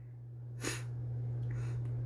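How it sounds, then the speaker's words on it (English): A single sharp sneeze bursts out once over a steady low electrical hum, followed by quiet breathing noise. "Every time I sneeze lately, it hurts."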